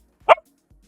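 A puppy gives a single short, sharp bark, close and loud in an otherwise quiet room.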